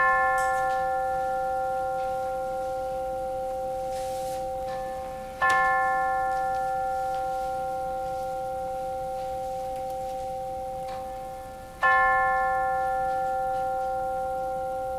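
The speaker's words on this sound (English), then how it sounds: "Now, our hearts and minds for the ringing of the chimes." Chimes ring during a church service, struck three times at slow, even intervals, each tone bright and clear with a long, fading ring that carries into the next strike. No voices are heard.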